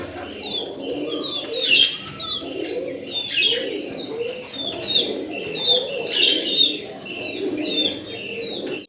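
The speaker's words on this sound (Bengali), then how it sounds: "বাচ্চা সহ চমৎকার একটা রেসারের পেয়ার" A pair of racer pigeons with their young, steady soft cooing and chirping close by throughout, with a few faint wing flaps and no talk.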